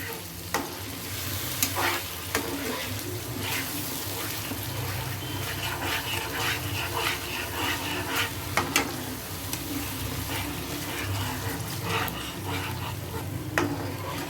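Seafood masala frying and being stirred in milk in a pan, with a continuous soft sizzle and repeated scraping stirs and clinks throughout.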